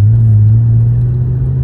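A car engine idles close by in a low, steady hum with a strong droning tone and no voices.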